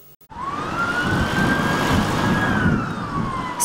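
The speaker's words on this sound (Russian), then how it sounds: "сирена скорой помощи." An ambulance races to hospital through traffic with its siren wailing in a single long, steady rising and falling tone, loud and close, over road noise.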